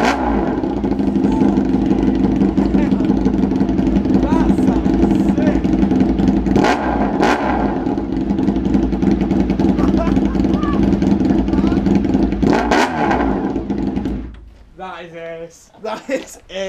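A Honda RVF 400 motorcycle running with no exhaust fitted, a loud, harsh, close engine roar held steady for a long stretch with brief revs, then cutting out into quieter noises and voices at the end.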